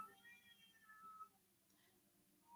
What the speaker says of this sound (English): Can you hear the cats?